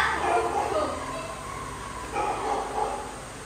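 Two short bursts of dog barking, somewhat faint, with voices and chatter in the background.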